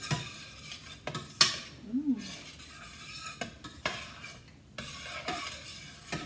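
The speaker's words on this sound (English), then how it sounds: "I'm going to go ahead and add the apple cider vinegar. And we'll give this a stir again." Banana peppers being stirred with apple cider vinegar in a pot, with a few sharp utensil clanks and scrapes against the pan, a clear metallic tap, and a faint sizzle between strokes.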